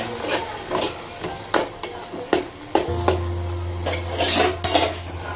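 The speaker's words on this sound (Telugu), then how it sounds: "ఇది కూడా బాగా కలుపుకుందాం." Gongura and prawn curry is stirred in a pan, the spoon knocking and scraping the metal in a steady series of close clinks over a soft sizzle, with a low hum joining partway through and no voices.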